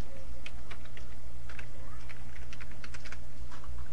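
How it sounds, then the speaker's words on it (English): Fingers typing on a computer keyboard, a quick run of light, uneven key clicks over a steady low hum, nearby and alone. "Type tayo ng name ng sender, yung title ng song natin,"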